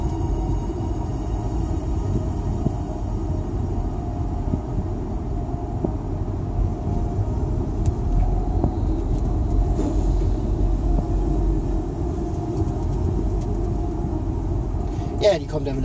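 An S-Bahn commuter train rumbles past through a village near Heidelberg in a steady low roar that lasts throughout, with a brief sharp squeal near the end.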